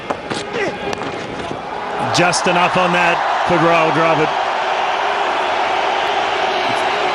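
A stadium crowd at a 2008 India versus Australia Test match in Bangalore rises into cheers after a Rahul Dravid boundary, a swelling roar that holds steady under a commentator's voice.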